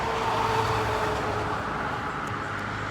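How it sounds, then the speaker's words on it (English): Steady, loud road traffic rumbles outdoors along a roadside car lot in Madison, Ohio, a continuous wash of passing vehicles with no pauses and no voices. "The traffic's really loud up here."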